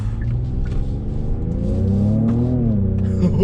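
A Genesis GV70 all-wheel drive SUV accelerates hard, its engine note rising steadily and loud from the cabin with a continuous rumbling drone.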